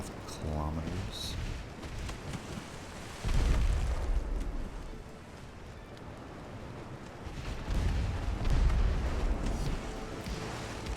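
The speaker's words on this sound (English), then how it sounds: "There we go. Torpedo hit." A torpedo strikes a warship in the naval strategy game Ultimate Admiral: Dreadnoughts, producing deep, rumbling booms that swell twice, near 3 and 8 seconds, over a steady low roar of battle.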